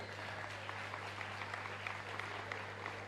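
A congregation at a Catholic Mass in a parish church in Asunción applauds the rector of Universidad María Auxiliadora, a soft, steady patter of many hands over a constant low electrical hum.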